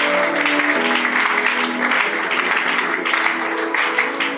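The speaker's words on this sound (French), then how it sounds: "Et nous t'acclamons très fort au nom de Jésus-Christ de Nazareth." A church congregation applauds and acclaims together in a dense, steady wash of clapping and cheering that holds loud for the whole stretch, with voices mixed into the crowd noise.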